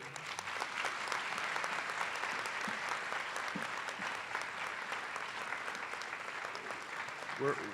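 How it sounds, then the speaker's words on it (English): At an academic excellence award ceremony, an audience applauds as Frida Johnson receives the President's Medal. The room gives fairly quiet, steady clapping, with a few brief sounds near the end. "join me in applauding Frida Johnson as she receives the President's Medal"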